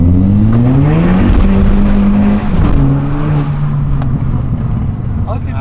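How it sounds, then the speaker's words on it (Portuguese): A Volkswagen Jetta with a sport exhaust drones loudly at close range, its engine note rising and falling steadily with faint crackles, heard from inside the car while occupants talk. "Eu nunca vi um Jetta com ronco tão gostoso na minha vida"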